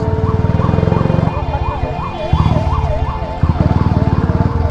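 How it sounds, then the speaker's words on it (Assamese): A loud wailing ambulance siren rises and falls repeatedly, close by, over a steady rumble of engine and traffic. "সাইড করে দিয়ক সাইড করে দিয়ক অ্যাম্বুলেন্স আছে অ্যাম্বুলেন্স"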